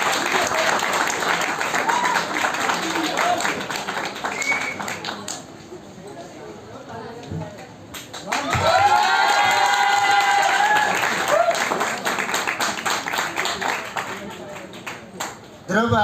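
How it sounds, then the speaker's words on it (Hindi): An audience at a Vijay Diwas event claps loudly for the runner-up of a competition, with sustained applause that fades mid-way before swelling again with crowd voices and cheering. "तालियां बजाते रहें।"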